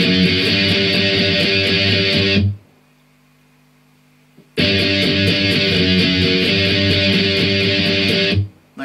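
Loud distorted electric guitar octaves from a song's interlude chug in a fast driving rhythm, break into a two-second pause with faint ringing, then resume before cutting off.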